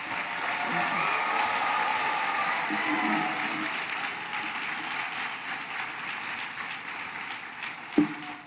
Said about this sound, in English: one more round of big applause for the 2025.